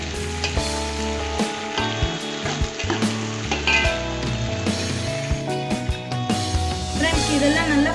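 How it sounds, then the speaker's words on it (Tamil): Mint leaves frying in a pan as part of a rice dish, a close sizzle with stirring scrapes beneath prominent background music. "அதுக்கப்புறம் புதினா, இதையும் நல்லா ஃப்ரை பண்ணுவேன்."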